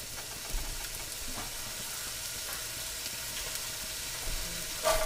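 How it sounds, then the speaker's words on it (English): Chopped onion sizzling in a couple tablespoons of hot olive oil in a large Dutch oven, a steady close hiss with a few brief stirring clinks and a louder scrape near the end. "I have a couple tablespoons of olive oil heated in a large Dutch oven. Adding my onion."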